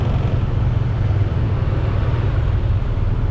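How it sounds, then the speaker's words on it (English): Heavy traffic crawls along a street in Seminyak, Bali, giving a continuous low rumble of idling and slow-moving engines that stays loud and steady, with no talk. "it is traffic jam"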